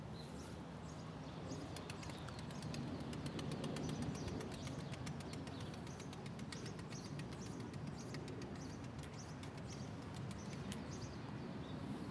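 Pet pigeons cooing softly amid a low, steady background hum, faint repeated calls with occasional chirps, somewhat distant and without speech.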